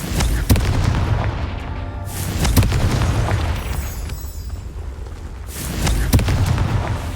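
Booming explosions from the Confringo fire spell in Hogwarts Legacy on Xbox Series X, three heavy blasts with sharp onsets and rumbling tails, loud and close, spaced a few seconds apart.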